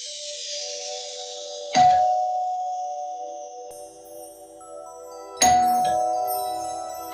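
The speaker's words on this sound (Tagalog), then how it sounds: "buksan mo nga tong pinto at may nagdo-doorbell sa labas" A doorbell rings twice, each a clear ding-dong chime ringing out and fading slowly in a quiet room, the second coming about four seconds after the first.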